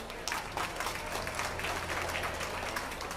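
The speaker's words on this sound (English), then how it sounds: "Let's give all those exhibitors a round of applause" An audience at a youth swine market show claps for the exhibitors, a dense and steady patter of many hands that holds at an even level.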